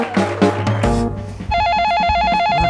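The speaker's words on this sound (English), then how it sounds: "Come on, pick up on the phone," A telephone rings with a warbling electronic trill, loud and close, beginning after a short burst of other sound and continuing steadily to the end.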